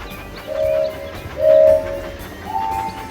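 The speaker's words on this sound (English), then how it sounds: "Swipe left or right to keep the train on the tracks." Tonal whistle-like chimes sounding three times over a low rumbling rail background, a cartoonish video game train moving along tracks.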